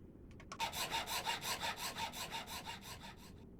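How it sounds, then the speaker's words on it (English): Rhythmic back-and-forth sawing through wood in the survival game Cataclysm: DDA, a dozen or so rasping strokes in steady succession, close and clear with no talking. "so keep sawing, please."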